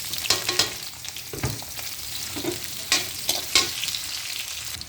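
Ginger, garlic and onion hit hot cooking oil in a pan, giving a loud, close, crackling sizzle with repeated sharp stirring scrapes spaced through it and no talk.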